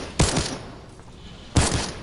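Two sharp bursts of video game gunfire in a custom game mode, each a quick cluster of punchy shots, separated by over a second of quieter background.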